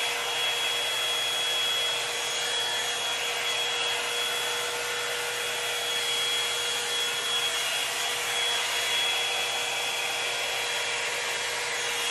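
A Revlon Root Booster hot-air dryer brush runs on its high heat setting while drying curly hair. It gives a loud, steady, airy whir that holds without a break the whole time, and no one talks over it.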